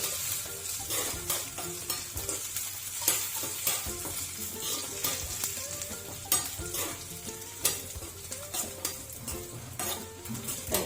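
Raisins frying in hot oil on a gas stove, a steady bubbling sizzle with repeated sharp scrapes and clinks of a metal spoon stirring in the pan, no voices.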